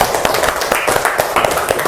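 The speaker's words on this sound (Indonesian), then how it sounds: "Ayo kita aplaus dulu untuk kita semua." Students applaud in a classroom, a dense run of quick claps sustained at an even level for the full stretch.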